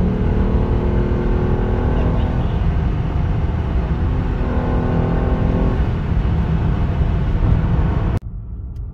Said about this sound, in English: if I do get to higher RPMs, you can hear it. So let me downshift.